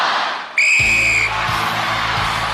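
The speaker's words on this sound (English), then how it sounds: "Finland, you will go on Larry's whistle." A referee's sharp, steady whistle blast starts a race at the 1994 International Gladiators arena competition, and a loud crowd roar rises beneath it and carries on afterward.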